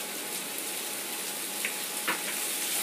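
Two finely chopped onions fry in a pan, a steady close sizzle broken by a couple of brief clicks as they are stirred.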